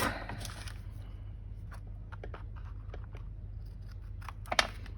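Scissors trimming a strip of paper from a handmade journal, a few quiet crisp snips and rustles in a still room, ending with one sharper cut.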